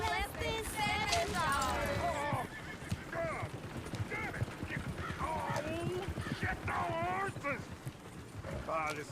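Horses clip-clop and whinny in a Red Dead Redemption 2 town scene, with hoof beats and neighs mixed under steady overlapping talk and game chatter.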